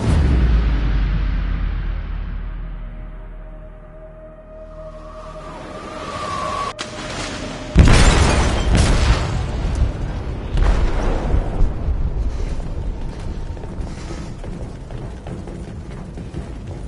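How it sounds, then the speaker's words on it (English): Explosive detonating in a ship's hold in the video game Detroit: Become Human, a deep rumbling boom that fades, then a sudden heavy blast with crashing, rattling debris and a long rolling roar. "They detonated an explosive in the hold."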